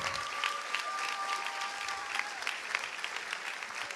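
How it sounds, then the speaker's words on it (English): Applause from a graduation ceremony audience at GEMS American Academy Qatar, honouring a departing teacher, heard as a steady, fairly faint wash of clapping throughout, with a couple of sustained tonal notes running under it. "Can we please give a massive round of applause to Mr. Wessel"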